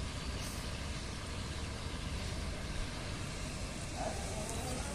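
Heavy West Sumatra intercity buses idle in a convoy, a steady low diesel rumble with a constant broadband hum that holds even and moderately distant throughout, with no speech.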